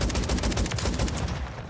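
Rapid automatic gunfire from the JAK Jawbreaker in Call of Duty Warzone Rebirth, a fast, evenly spaced burst of loud close shots lasting over a second before trailing off.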